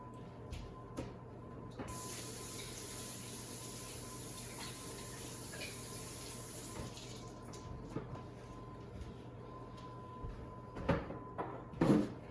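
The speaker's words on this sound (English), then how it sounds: "Let me go wash my hands" Tap water running steadily into a sink while hands are washed, a constant close hiss with occasional splashes and a few knocks near the end.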